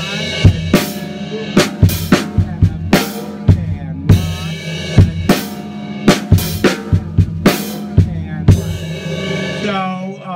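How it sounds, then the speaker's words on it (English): Rock drum beat from a drum cover on a Gretsch kit, opening on a loud crash cymbal and driving steady quarter notes with punchy kick and snare hits and repeated crash accents, played alone. "it goes into a beat using quarter notes. So I'll start off on the crash."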